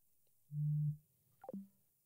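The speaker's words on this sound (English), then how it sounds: "he's calling me back, but it's not connecting." A phone call fails to connect: a single low steady tone sounds, then a short descending electronic blip sequence, fairly quiet against near-silence.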